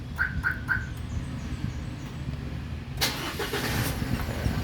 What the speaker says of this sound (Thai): นี่สตาร์ทเรียบร้อยนะครับ